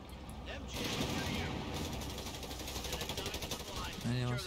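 Machine gun fire from an MG team in the Company of Heroes 3 Italian campaign, with rapid rattling bursts in a steady rhythm at moderate distance, mixed with battlefield clatter and voices talking over it.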